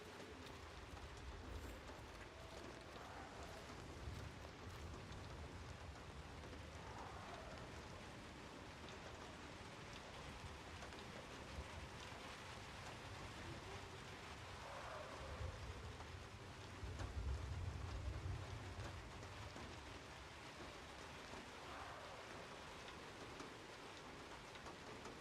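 Steady rain falling in a video game, an even wash of hiss that persists for the whole stretch at a soft, constant level, with faint background noises beneath it.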